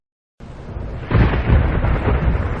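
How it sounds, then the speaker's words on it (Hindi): Heavy rain with thunder breaks in suddenly after a moment of silence, then swells into a deep, loud rumbling roar that stays dense and sustained to the end. "अरे आज फिर तेज बारिश आ गई।"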